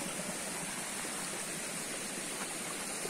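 Steady broadband rush of a mountain stream at the foot of a hill, water tumbling continuously and close by with no pauses, no voices, just an even wash of flowing water.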